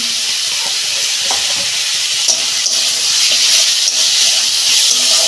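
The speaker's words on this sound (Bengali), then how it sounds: "চামচ আদা রসুন দিচ্ছি" Ginger and garlic paste frying in hot oil in a pan, a loud, steady hiss and sizzle with faint spoon scrapes throughout.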